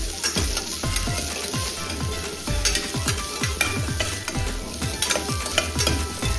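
Garlic, ginger and green chillies fry in oil with a busy close crackling sizzle, overlaid by rapid rhythmic scraping strokes of a spoon against the pan throughout.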